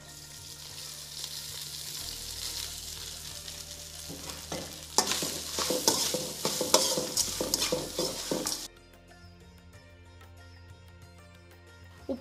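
Cooked rice being stirred and tossed in a pan with curry leaf powder and salt for curry leaves rice, a steady low sizzle with a burst of scraping stirring strokes midway before it settles again.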